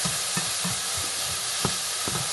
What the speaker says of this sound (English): Just let that saute. Let it cook until your onions start to get kind of clear.